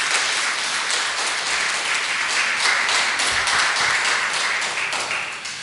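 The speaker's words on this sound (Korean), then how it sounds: "성가대에게 큰 박수로 격려의 박수 드리죠" A church congregation at a Sunday worship service applauding the choir, steady full clapping from a modest crowd that fades slightly toward the end.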